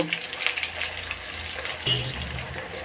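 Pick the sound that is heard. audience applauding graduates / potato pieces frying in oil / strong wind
potato pieces frying in oil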